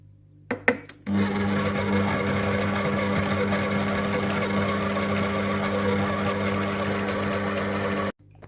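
Compact Cook Pro food processor mixing cookie dough at speed 3, a short click and beep followed by a steady loud motor whir with a humming tone that runs evenly for about seven seconds, then cuts off.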